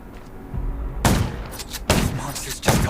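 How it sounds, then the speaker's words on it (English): Several sharp, loud gunshot bursts crack out in quick succession over a low background rumble, spaced about a second apart, in the zombie survival video game Undawn. "Gunshots will attract."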